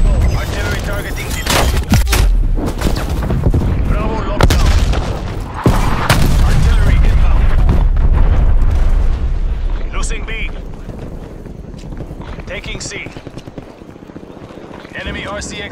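An artillery strike in Call of Duty Black Ops Cold War lands as a run of heavy booms and rumbling blasts, followed by quieter gunfire and game effects, with voices heard over the action.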